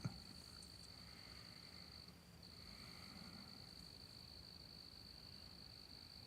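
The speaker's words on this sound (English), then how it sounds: "All I hear is the crickets." Crickets chirp in a steady, high-pitched trill across a quiet night, faint and continuous with no voices.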